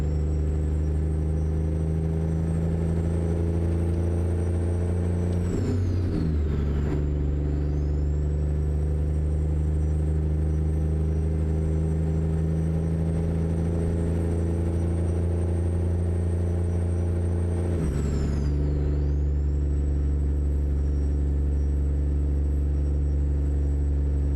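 A 1,005 hp compound-turbocharged engine in a W900 truck in American Truck Simulator, hauling a 142,000 lb bulldozer, drones as a steady deep loud rumble with two brief dips where the gears shift.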